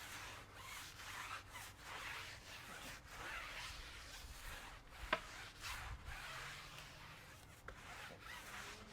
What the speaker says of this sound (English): we'll go ahead and take our Auto Forge brush and we'll clean the tire